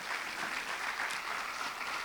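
A church congregation applauds, a brief, steady wash of clapping heard at a distance and fairly quiet.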